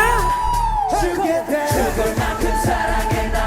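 A crowd screams and shouts during a live encore performance, with loud sustained yelling over music with vocals and heavy bass.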